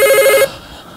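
A telephone rings loudly for a caller phoning in to a Turkish TV singing show, a steady electronic ring that cuts off partway through, leaving quiet room tone.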